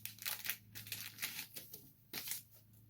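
A plastic bag from hair-extension packaging crinkles in quick, close, quiet bursts as it is handled, with brief pauses between rustles and no talking.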